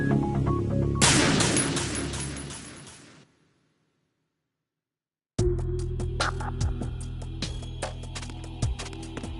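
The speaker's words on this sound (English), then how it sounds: "I'm under enemy fire." Heavy burst of gunfire from enemies in Metal Gear Solid 2, a dense loud volley that fades into a short silence, then sparse sharp shots and clinks resume over a steady background.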